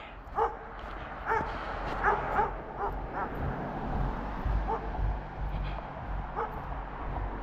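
A dog met on a long outdoor walk barks repeatedly, with sharp yips and a few whimpering notes spread irregularly over a steady outdoor rumble, moderately close.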